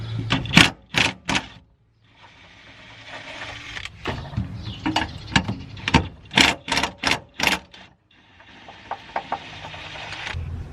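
A tool works loose the 13 mm bolts on a BMW 335i during an exhaust install, giving bursts of quick, close mechanical clicking and rattling separated by short pauses.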